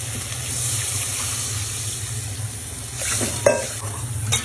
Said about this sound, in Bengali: কচু তলার মধ্যে পানি দিয়ে দিচ্ছে